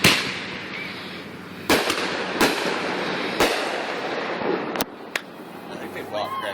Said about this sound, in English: I think they bought crappy fireworks.